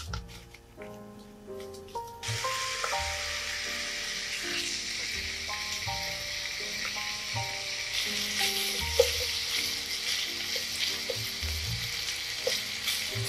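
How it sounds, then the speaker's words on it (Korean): Thin-sliced pork belly fries in a pan, a steady bright sizzle that swells at the start and carries on continuously under soft background music. "대패 삼겹살을 팬에 올려놓고 먼저 구워주겠습니다."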